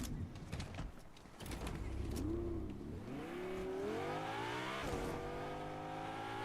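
A car drives in a video game, its engine revving up in a rising whine that climbs and steadies, then dips and climbs again, loud and close, after an opening burst of clattering noise.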